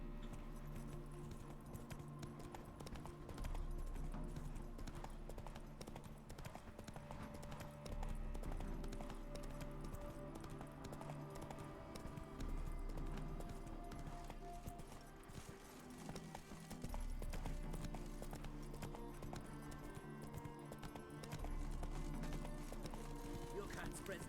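Video game horse named Roach clip-clopping steadily over ground in a repeating hoof rhythm, with a voice calling out to it amid a continuous game soundscape.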